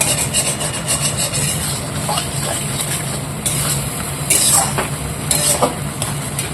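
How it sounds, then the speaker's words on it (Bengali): Sugar being stirred and sautéed in a hot pan gives a steady scraping, rubbing texture with a soft sizzle underneath, and a few brighter scrapes break through near the end. "দিয়ে দেবো চিনি, ভালো করে কষিয়ে নেব।"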